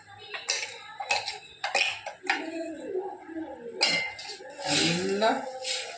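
Semolina upma is stirred in a pan with a spoon, producing irregular clanks and scrapes against the metal. A voice talks over the stirring throughout.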